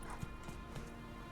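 Hooves of Geralt's horse Roach in The Witcher 3 clip-clopping in a few quiet, uneven thuds over a low ambient bed.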